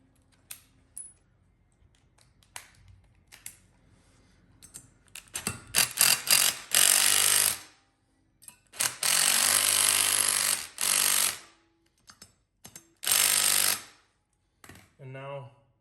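A hammer drill bores holes into existing concrete to mount a 4x4 post for a wheelchair ramp, loud harsh bursts of several seconds each separated by quiet pauses, with small tool clicks and handling between.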